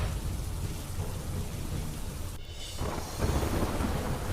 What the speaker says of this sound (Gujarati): સાણંદ તાલુકાના ગામોમાં મુશળધાર વરસાદ પડ્યો